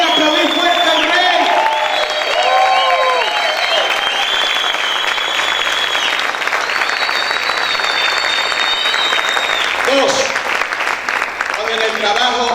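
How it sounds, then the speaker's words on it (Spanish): Loud, sustained applause fills a church as the congregation claps for the Lord, with shouts and voices rising above the dense clapping for the whole stretch. "¿Cuántos pueden aplaudir fuerte al Rey?"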